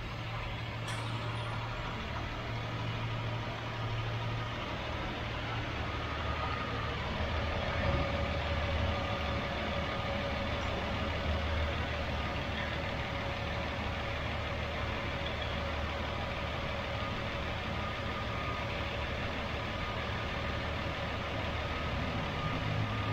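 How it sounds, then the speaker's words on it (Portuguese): A 1984 Chevrolet Opala 250S six-cylinder engine idles at about 750 RPM, a steady low rumble holding an even, unbroken drone close by with no one talking over it. "Rotação de marcha lenta,"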